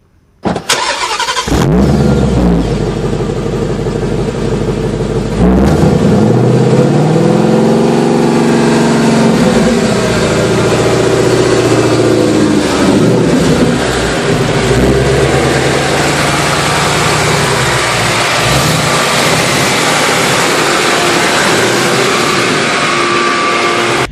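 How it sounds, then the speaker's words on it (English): A 2017 Ford Mustang GT with a manual transmission starts up, then its engine runs loud and steady through changing revs as it drives, with no voices over it. "I am in a 2017 Ford Mustang. It is a GT model with the manual transmission."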